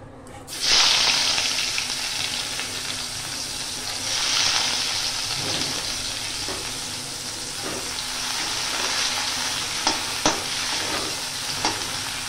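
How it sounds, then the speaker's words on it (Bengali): Onions fry in a hot pan with a steady sizzle and bursts of stirring, nearby and moderately loud, with occasional clinks of a utensil. "পেঁয়াজটা একটু ভাজা ভাজা হোক"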